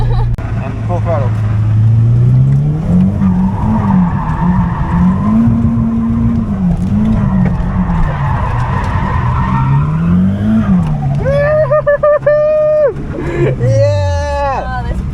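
A Nissan S14 drifts around Raleigh Raceway, its engine droning and rising in long sweeping revs while tires skid and squeal continuously, close and loud, with sharper squeals and an excited voice near the end.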